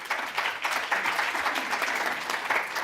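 A room of delegates applauds a winning team at a sustainability finance event in Singapore, with dense, steady clapping from a sizable audience that holds at an even, fairly loud level throughout.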